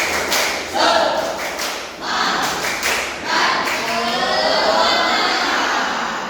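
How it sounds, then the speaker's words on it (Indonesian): A classroom group claps together in a rhythmic spirit-clap routine (tepuk semangat), with sharp hand strikes in rapid bursts against some background voices. "Yuk bareng-bareng. 1, 2, 3. Tepuk semangat"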